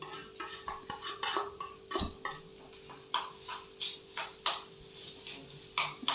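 Mashed potato being stirred and mixed in a pan with a spoon, irregular scraping strokes and metallic clinks against the pan, close and clear, with no talking.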